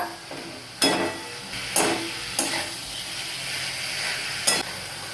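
Potatoes go into spiced oil in a frying pan, sizzling steadily while a spoon scrapes and clinks against the pan in four or five distinct strokes.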